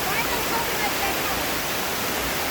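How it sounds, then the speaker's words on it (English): Little Dunn's River waterfall in Ocho Rios, Jamaica, gushing down as a steady, dense roar of rushing water close by, constant and unbroken throughout. "That's the falls. Coming down. Gushing down."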